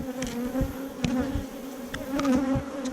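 Honeybees buzz close and steadily around an open, queenless hive after being misted, a dense droning hum with individual bees flying past.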